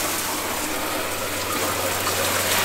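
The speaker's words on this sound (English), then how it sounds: "Shower water." Water runs steadily from a pump-driven recirculating shower inside a Sprinter van, a loud, continuous hiss of spray without pause.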